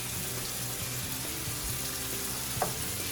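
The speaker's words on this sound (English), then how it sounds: "I'm going to turn the heat back up to high so I can cook this off. And I'm going to add the hot country style sausage." Hot country style sausage frying in a pan over high heat, a steady broadband sizzle throughout with a brief clink near the end, no voices.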